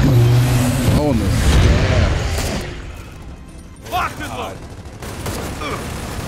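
Gunfire in Gears of War 4 makes a dense, sustained rattle of shots and impacts under excited voices, then thins into scattered bursts and game noise while people keep talking.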